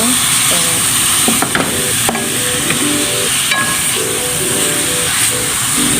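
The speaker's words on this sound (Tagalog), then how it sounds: "I'm cooking now pork adobo." Pork adobo sizzles and fries in a pan, a loud, constant hiss with scattered clinks and scrapes of stirring, heard up close with no talking.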